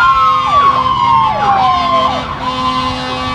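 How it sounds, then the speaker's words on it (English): Emergency vehicle sirens wail in the background, their pitch sweeping up and down repeatedly and overlapping, fairly loud and steady throughout with no talking. "Excuse the sirens in the background."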